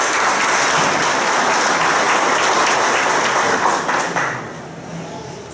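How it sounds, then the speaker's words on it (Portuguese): A ceremony audience applauds a military police battalion commander at a municipal council session, steady loud clapping from many hands that tapers slightly toward the end. "com uma salva de palmas"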